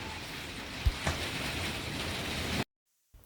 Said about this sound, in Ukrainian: О, чуєте, у нас сьогодні дощ.